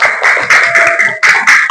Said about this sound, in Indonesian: Oke, tepuk tangan dulu dong untuk kita semua.